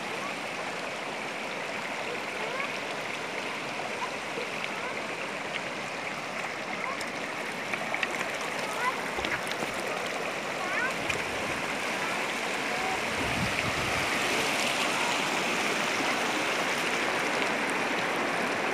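A stream of cold, clear water runs through the Kashmir valley, a steady close rushing and babbling that continues without break and grows slightly louder toward the end.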